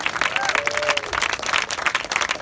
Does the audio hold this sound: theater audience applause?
yes